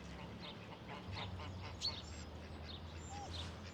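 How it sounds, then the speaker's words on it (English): Flock of ducks and geese calling at a waterfront in spring, scattered quacks and honks at a moderate distance over a steady low rumble of outdoor background noise, with no talking. "All them birds, maybe they have to put their head up to make the noise."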